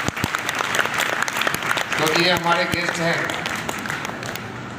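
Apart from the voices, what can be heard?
audience applauding guests at meeting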